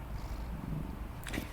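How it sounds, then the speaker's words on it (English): A pet cat named Percy purring softly and close by, a low steady rumbling hum lasting the whole moment, with a brief faint higher rustle near the end. "I think you might be able to hear him purring."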